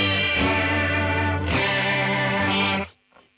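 Electric guitar through a Fender Hammertone chorus pedal set to extreme settings, producing a thick, warbling, heavily modulated chord that swells and shifts for about three seconds before cutting off.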